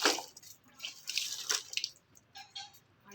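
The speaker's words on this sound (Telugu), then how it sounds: "చెట్లకు నీళ్లు పోస్తున్న అమ్మమ్మ" Water splashes and trickles in uneven bursts onto plants, fairly quiet and close, with short pauses between pours.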